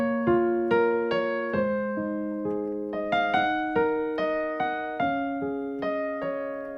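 Solo piano plays the first part of a song as a slow, gentle melody. The clear notes ring out one by one in a steady rhythm, close and with no voices.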